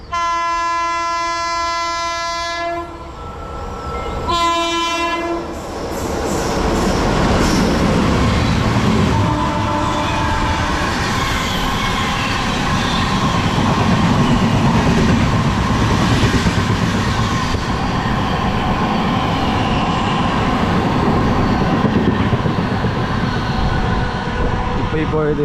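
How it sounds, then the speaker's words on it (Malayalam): The Antyodaya Express from Thiruvananthapuram North to Mangaluru Junction blasts two long horn calls, then roars through a station with heavy rumbling and clattering wheels that build and stay loud. Voices are faintly audible beneath it. "ഇപ്പോൾ ഈ പോയത് തിരുവനന്തപുരം നോർത്ത് നിന്ന് മംഗലാപുരം ജംഗ്ഷൻ വരെ പോകുന്ന അന്ത്യോദയ എക്സ്പ്രസ് ആണ്"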